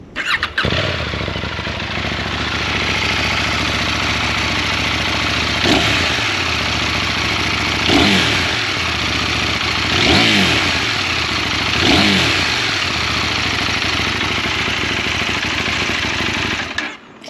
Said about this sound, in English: Quick sound test of this parallel twin 799cc